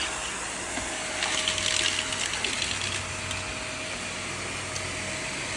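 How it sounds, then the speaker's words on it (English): A Shark vacuum cleaner runs in a shop, giving off a steady, close, loud whooshing drone that holds for the whole stretch with no talk. "Dang old Hoover done got fired back up, son."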